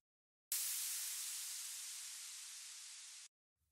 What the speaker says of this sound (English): And then this white noise hit.